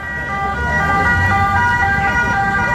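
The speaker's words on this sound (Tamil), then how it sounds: "எங்க போனாலும் ஆம்புலன்ஸ் வந்துருது." An ambulance siren wails loudly with a steady electronic tone as it passes, over low traffic rumble, with no voices.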